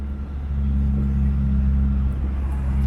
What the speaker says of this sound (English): Can you hear the roar, folks, of the exhaust?